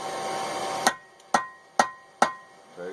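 Four sharp, ringing hammer blows strike chain stock against a blacksmith's cutoff hardy, evenly spaced about half a second apart, each clang decaying quickly into the quiet shop.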